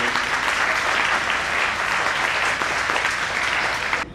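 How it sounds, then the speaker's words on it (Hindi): Sustained applause from an audience at a district judo championship event in Jalandhar, dense and steady throughout before cutting off abruptly near the end. "इन्हों की सपोर्ट वास्ते भी जोरदार तालियां ला रही है"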